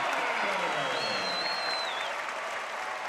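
A basketball arena crowd at Cincinnati vs Utah roars and applauds after a slam dunk. The cheering is loud, dense and sustained, with a whistle-like tone rising briefly over the noise.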